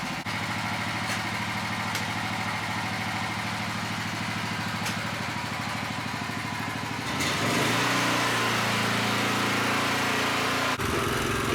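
Small tiller engine running steadily inside a hoop house, a loud continuous buzzing drone that revs up and grows rougher about two-thirds through, with no talking.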